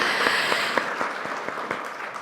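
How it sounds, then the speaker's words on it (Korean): An audience at a Korean policy forum on firefighters' transition to national civil-service status claps in a large hall, a fairly faint spread of many hands with a few sharper claps standing out. "서로를 위해서 박수 한번 다시 한번 주시기 바랍니다"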